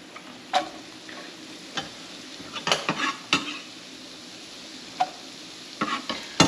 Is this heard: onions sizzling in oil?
yes